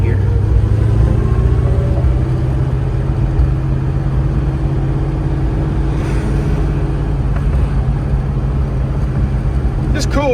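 A 1938 Chevrolet Master Town Sedan hot rod drives with a steady, deep engine rumble heard from the cabin, a driver talking over it and a brief rise near the end.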